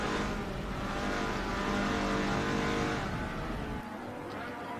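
A light Group C race car threading a tricky section of track, its dense roaring engine loud and continuous, easing slightly near the end.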